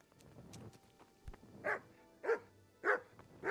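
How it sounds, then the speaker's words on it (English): A dog in the video game Kingdom Come: Deliverance gives four short, evenly spaced barks, clear and moderately loud over a faint game background, with no talking. "That's a sleeping dog."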